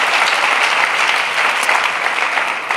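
Church congregation claps loudly and steadily during a sermon, a dense, even wash of many hands with no voices standing out.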